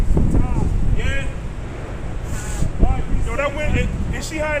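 Gusty wind buffets the microphone with low rumbling roar throughout, while people talk nearby over it.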